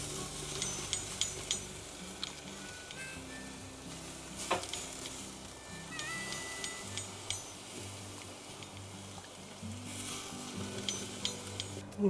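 Basted pork ribs sizzle on a smoker with a soft, steady crackle and hiss, broken now and then by faint clinks from the grill, and no one speaks.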